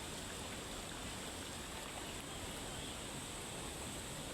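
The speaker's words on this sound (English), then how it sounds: "Gabriel is in a river here in Balar, and the water is so good." River water flowing steadily near a small dam in Balar, a continuous broadband rushing wash heard close and unbroken, without voices.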